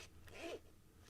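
The zipper of a hard-shell carrying case for in-ear monitors is drawn open in one short, quiet, close rasp, with no talking.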